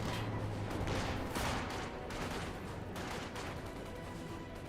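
Distant gunfire in the Company of Heroes 2 strategy game, a quiet, continuous battlefield din of rattling shots and bursts without any dominant single blast.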